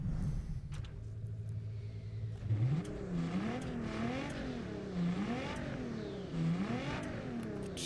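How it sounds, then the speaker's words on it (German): A car engine in the racing video game Test Drive Unlimited Solar Crown idles low, then revs up repeatedly in rising and falling waves, loud and close, with no speech over it. "Da können wir mal auch mal einmal aufs Gas drücken."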